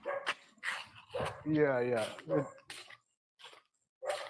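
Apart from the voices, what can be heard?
dog barking in the background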